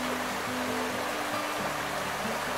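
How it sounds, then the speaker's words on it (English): Water falling out of a supply line into a funnel, a continuous splashing rush with a low droning hum underneath, steady throughout and unaccompanied by speech. "The water falls out of their line into a funnel,"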